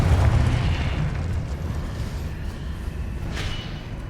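A Confringo spell blast in Hogwarts Legacy lands as a deep, loud rumbling boom that opens strongly and decays into a lingering low roar, with a faint secondary burst near the end.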